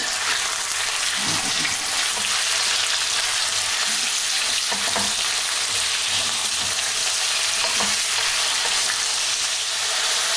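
Chunky pieces of pork fry over above-medium heat in a pan for a vegetable stew, a loud dense continuous sizzle with occasional soft stirring knocks.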